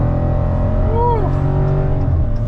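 A Dodge Challenger Demon muscle car at a Dallas auction event rumbles loudly and close by, its engine swelling in one quick rev partway through before settling back to a steady, deep idle.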